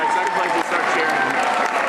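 A crowd at a senior-life event breaks into dense, continuous applause and cheering for the second-place finisher, steady and loud for the whole stretch with a brief dip partway through.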